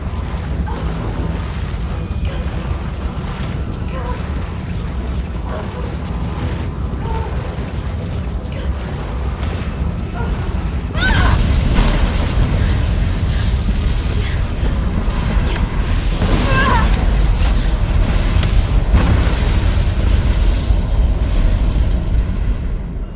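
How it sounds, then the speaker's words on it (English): An explosion in Resident Evil 3 Remake during a Nemesis encounter: low rumbling game ambience runs for about ten seconds, then a sudden loud blast erupts and a dense, booming roar carries on to the end. "move away from the Nemesis until an explosion occurs"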